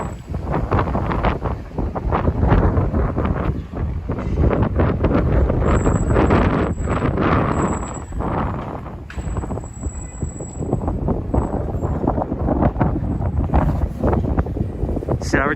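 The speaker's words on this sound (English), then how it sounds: "It's crazy windy tonight." Strong night wind in New York City buffets the microphone with a loud, continuous low roar that surges in gusts for the whole stretch.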